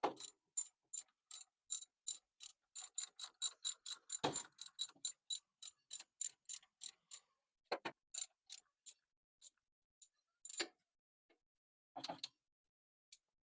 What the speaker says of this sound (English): And I'm going to install that bolt.